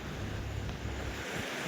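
Sea waves wash onto a village beach in a continuous close, broadband surf roar mixed with gusty wind buffeting the microphone, with no talk.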